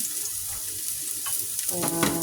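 Chopped garlic and onion sautéing in a pan before sardines and egg are added, a steady close sizzle and hiss that grows a little brighter and busier toward the end.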